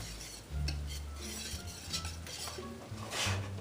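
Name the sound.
whisking cheese into a sauce in a pot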